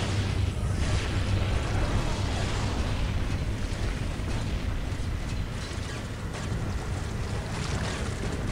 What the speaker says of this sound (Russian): Ставлю бомбу и еще один удар пульсации.